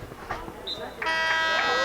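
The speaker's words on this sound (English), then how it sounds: "And there's the buzzer for the end of the period." A loud, steady harmonic buzzer sounds at a boys' varsity lacrosse game to end the period, starting partway through and holding to the end, preceded by crowd noise and a brief tone.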